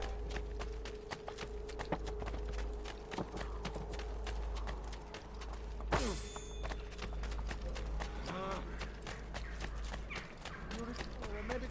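Rhythmic horse hoofbeats clip-clop steadily throughout in Assassin's Creed 2, under game ambience and music, with a sharp effect sound partway through.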